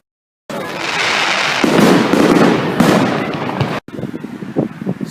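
A bonfire night firework launches with a loud, sustained whooshing burst lasting a few seconds, then cuts off into scattered crackles and pops nearby.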